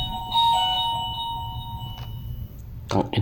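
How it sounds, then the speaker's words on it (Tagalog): An office doorbell gives a few short electronic chimes with lingering tones, then a sharp clattering knock or clang near the end, with a voice speaking over part of it. "Sino kayo nagdo-doorbell dyan na ano?"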